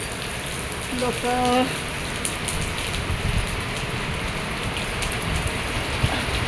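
Heavy monsoon rain pours steadily over a garden in Mumbai, a dense, continuous hiss at close range, with a brief voice speaking faintly under the downpour.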